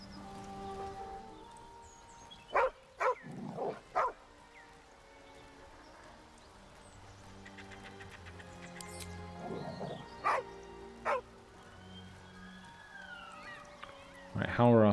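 A dog in the Baldur's Gate 3 video game barks in short bursts, several loud yaps spaced out over game music and rain ambience, with a voice speaking briefly.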